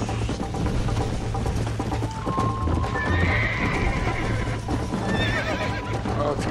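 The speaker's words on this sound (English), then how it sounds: "Run faster, horse" A horse in Red Dead Redemption gallops with rapid, rhythmic hoofbeats and whinnies over a low droning background, close and fairly loud throughout.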